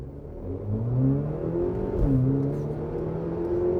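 A Haval H6 GT in race mode accelerates from a standstill, its engine rising in pitch through first gear, dropping briefly at a shift and then climbing again, loud and close from inside the cabin.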